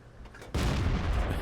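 A 105 mm tank cannon fires in World of Tanks, a sudden loud boom that bursts after a quieter moment and rolls on as a heavy, sustained blast.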